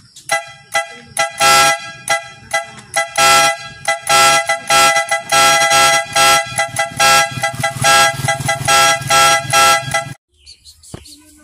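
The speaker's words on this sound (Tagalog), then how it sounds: "nakapwesto na yung ating busina para sa bagong taon" A loud multi-tune vehicle horn module honks over and over in short rhythmic blasts, close by, stopping abruptly near the end.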